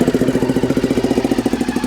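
A motorcycle fitted with a Remus exhaust idles close by, its loud, rapid, even pulsing throb steady throughout with no voices.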